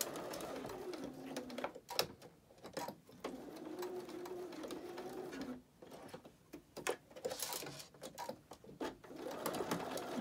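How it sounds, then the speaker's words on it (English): A sewing machine stitches along the folded lines of a fabric mask in short and longer runs of steady mechanical whirring, close and fairly quiet, with brief pauses between runs. "we're back at the machine, and we're just going to stitch these little folded lines fairly close to the fold."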